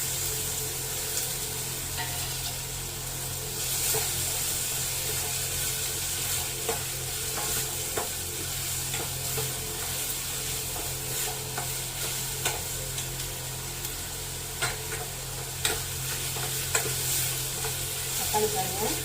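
Onions for Bombay chutney sauté in a pan with a low, continuous sizzle, broken by repeated sharp clicks and scrapes of a spatula stirring them over about nineteen seconds.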